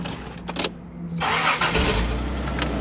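Toyota Land Cruiser 80 engine with a leaky exhaust cranks after a brief pause and fires up, settling into a loud, steady rumbling idle close by with a raspy exhaust note.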